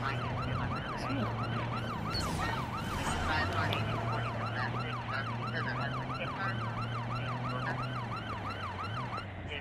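A wailing ambulance siren in the video game Watch Dogs 2 cycles steadily up and down, loud and continuous over a low engine rumble, with faint background noise throughout.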